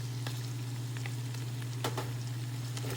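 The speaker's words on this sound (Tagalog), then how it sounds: "So habang ginigisa natin yan, taktakan na natin siya ng paminta" Pancit ingredients, including pork cheek, sauté in a pan as pepper and turmeric powder are added, giving a steady, close, continuous sizzle under a low hum, with a few light stirring clicks.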